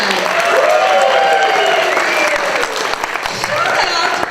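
An audience applauds a theatre band, continuous loud clapping that carries on for several seconds with shouts and cheers rising over it.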